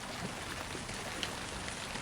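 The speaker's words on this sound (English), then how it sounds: "a cool rain began to fall around them" Cool rain falls steadily on a ship's upper deck, a soft, even hiss of drops with faint scattered patters and no voices.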